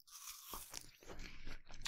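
A crunchy Granny Smith apple being bitten and chewed up close, with a sharp crisp snap followed by several quieter wet crunches, faint overall.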